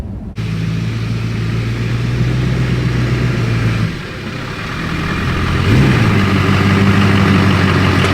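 A Duramax diesel truck engine runs steadily close by, a low droning idle that dips briefly and then rises into a slightly higher, rougher rev near the end.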